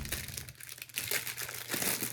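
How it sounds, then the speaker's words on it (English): Plastic or paper wrapping crinkles and tears as a gift item from a bookish subscription box is unwrapped, a steady close-up rustle lasting about two seconds with brief louder crumples. "That's wrapped. Let me unwrap it for you."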